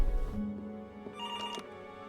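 An old-fashioned telephone bell rings in the video game Before Your Eyes, a short trilling ring over a quiet tonal music bed, fairly faint and without talking.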